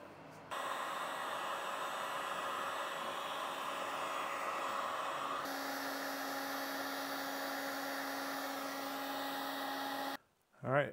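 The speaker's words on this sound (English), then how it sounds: "I took the heat gun, I warmed up that plastic." A heat gun blows steadily while warming a plastic fender flare on a Jeep Wrangler, a loud continuous broadband whoosh with a faint whine, shifting pitch midway and cutting off near the end.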